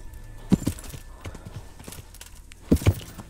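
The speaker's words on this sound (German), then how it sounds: "Ich glaube, ich nehme doch das andere Pferd," Horse hooves clop in the video game Kingdom Come: Deliverance, a few distinct hoof strikes in two clusters with soft movement between, close and fairly loud.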